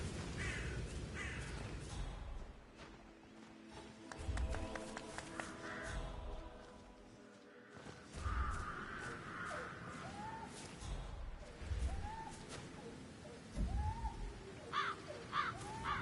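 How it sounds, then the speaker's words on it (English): Crows caw repeatedly around their nests in the video game Hitman 3, with scattered harsh calls over a low rumbling game ambience and occasional thumps. "Damn birds. If I could just get a clear hit on those nests."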